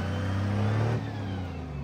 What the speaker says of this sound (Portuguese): Continua acelerando devagar.